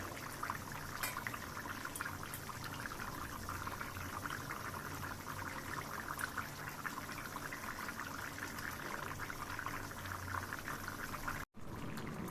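A covered pot of rohu fish-head curry with vegetables simmering, giving a steady soft bubbling hiss that runs unbroken and fairly quiet, with one brief dropout near the end.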